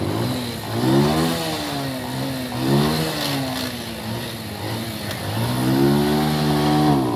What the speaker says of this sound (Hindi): वो मोटरसाइकिल आखिरी बस सांसों के ऊपर है